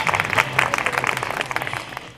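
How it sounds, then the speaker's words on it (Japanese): A crowd applauding steadily at a baseball pitcher's autograph session and talk show at Suma Patio, dense clapping throughout with a few louder bursts, no voices over it. "皆様大きな拍手でお送りください"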